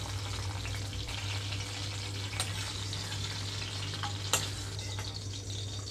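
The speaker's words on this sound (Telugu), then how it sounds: "లో ఫ్లేమ్లో ఉంచి వేయించుకుంటున్నాను వీటిని రెండు నిమిషాల పాటు" Spices and ingredients for a fresh coconut chutney fry steadily in a pan over a low flame, a continuous soft sizzle with low hum and a couple of brief clinks from stirring.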